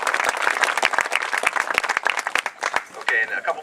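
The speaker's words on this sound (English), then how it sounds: "Let's give them a round of applause." Applause from a high school marching band event audience honoring the band staff, a few seconds of crisp, close hand clapping that thins out toward the end.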